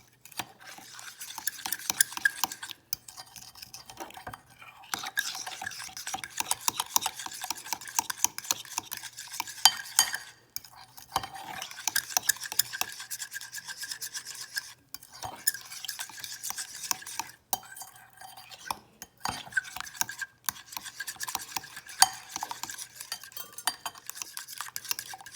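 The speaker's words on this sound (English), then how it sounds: "I wanted to make sure I get all of the lumps out of the filling" A utensil stirs lemon bar filling mixed with arrowroot powder in a bowl, breaking up lumps. Continuous quick clinking and scraping strokes scratch against the bowl, with brief pauses between bouts.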